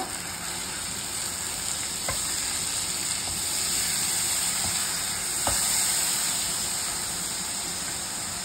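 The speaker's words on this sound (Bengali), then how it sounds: "এবার সামান্য একটু জল দিয়ে দেব মশলাটা কষানোর জন্য" A splash of water hits a spice paste in a hot pan, setting off a loud, continuous sizzle and hiss close by. A few sharp ticks break through it, and no one speaks.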